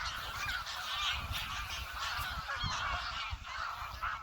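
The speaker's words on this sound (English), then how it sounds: "to see these geese gone mental because I'm coming down." A large flock of geese honks nonstop, overlapping calls forming a loud, dense chorus nearby.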